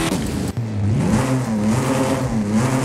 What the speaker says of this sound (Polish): A to brzmi jak od Lambo, nie?